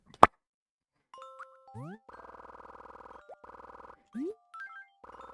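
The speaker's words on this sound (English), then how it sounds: "Sometimes when you tap your belly button in the right place, it makes a good noise. Like a xylophone noise" A string of bright chime tones from Animal Crossing: Wild World plays alone: quick rising blips, then repeated shimmering xylophone-like melodic notes in short bursts, after an opening click.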